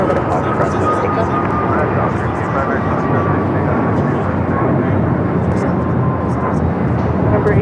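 A United Boeing 777 airliner arriving from Chicago at Los Angeles International Airport gives a loud, steady, close jet roar that fills the whole stretch without letting up.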